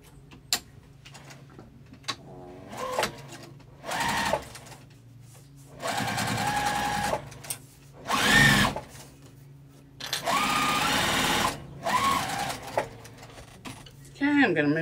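A sewing machine stitches across a zipper pouch in repeated bursts of steady whirring, each lasting a second or two and separated by short pauses, close and fairly loud, with a voice talking between runs.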